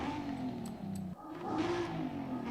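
A cammed twin-turbo Nissan 300ZX engine in Forza Horizon 5 drones and revs at a fairly low level, its pitch rising and falling in a steady engine note with no speech over it.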